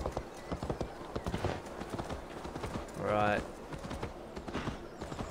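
Rapid hoofbeats of a galloping horse in a Viking-era video game pound steadily, with a brief whinny midway and a voice speaking over the clatter.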